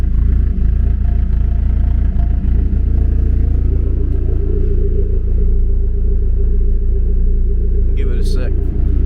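A stock 1993 Mazda Eunos Roadster S-Special with a 1.8L engine idles while warming up, a loud, steady, close-up rumble with a brief voice over it near the end.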